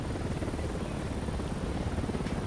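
Helicopter in the video game Ghost Recon Wildlands, a loud, steady rotor thump and whine filling the scene without a break, close and continuous.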